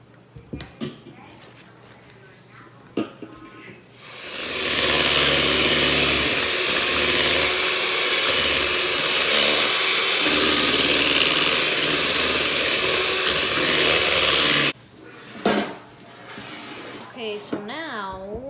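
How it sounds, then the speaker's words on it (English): An electric mixer beats cake pop mixture with a loud, steady, high whirring that lasts about ten seconds and then cuts off abruptly, with a person talking before and after. "I have my mixer and I'm just gonna mix this all together."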